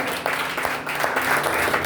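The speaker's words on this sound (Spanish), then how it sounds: "Sean bienvenidos en el nombre del Señor con sus fuertes palmas de esta noche." Church congregation clapping loudly in welcome during an evening service, a brief burst of many hands with uneven rhythm.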